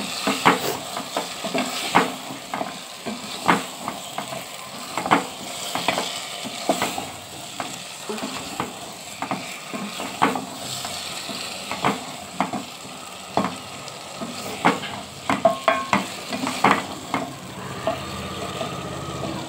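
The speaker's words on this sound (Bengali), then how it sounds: "সব কিছু একসঙ্গে ভালো করে কষে নেবো বন্ধুরা।" Catla fish and cauliflower curry being sautéed in a pan, with a steady sizzle and repeated scraping stirs of a spatula clinking against the metal, close and continuous with no talk.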